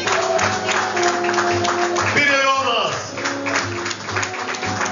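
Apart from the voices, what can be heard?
audience applause for the beauty contestants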